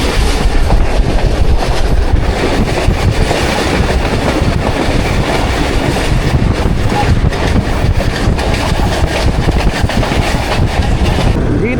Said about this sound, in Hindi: अख्तर कराना से थ्रू पास 18 डाउन मिलत एक्सप्रेस